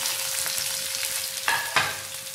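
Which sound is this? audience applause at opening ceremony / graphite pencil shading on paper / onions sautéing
onions sautéing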